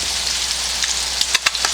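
Maple syrup and butter sauce bubbling in a pan, a steady close crackling sizzle with a few sharper pops near the end.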